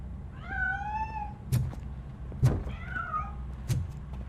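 Two drawn-out cat meows from the video game Robocop Rogue City, with sharp clunks and knocks in between and after, heard against a quiet low background with no talk.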